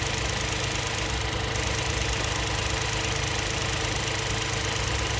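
A Hyundai Bayon 1.0 engine idles at normal revs, a constant close hum and rattle with no change throughout and no voices.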